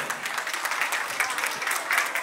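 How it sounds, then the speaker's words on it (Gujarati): An audience at a community gathering breaks into applause, dense overlapping claps sustained evenly throughout, fairly close and loud. "તે બદલ આ પરિવાર માટે એકવાર જોરદાર તાળીઓ થઈ જાય"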